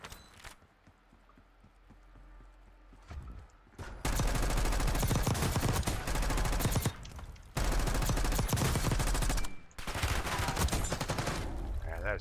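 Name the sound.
gunfire in Warzone video game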